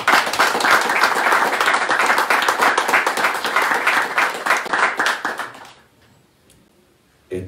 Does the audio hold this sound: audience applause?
yes